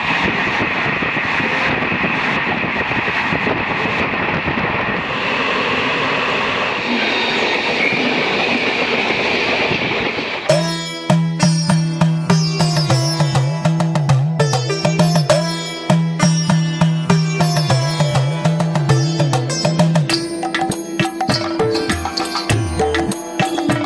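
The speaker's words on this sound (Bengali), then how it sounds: "নিচ দিক দিয়ে ট্রেন যাচ্ছে, আর উপর দিয়ে ধরতে গেলে মালদা টাউন গৌড় এক্সপ্রেস।" The Malda Town Gour Express passes close by, a rushing rumble giving way after about ten seconds to loud, rhythmic clickety-clack of wheels over rail joints, with squealing metal tones over the passing carriages.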